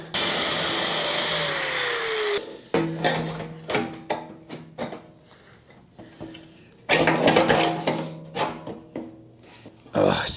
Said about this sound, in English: I just need to grind this edge just a tiny bit,